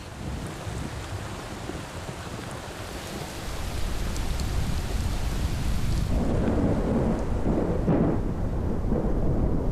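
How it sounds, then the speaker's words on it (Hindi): Steady heavy rain pours down, growing louder partway through, with low storm rumble underneath and no voices. "7 महीने बाद यहां फिर से बारिश होने लगी।"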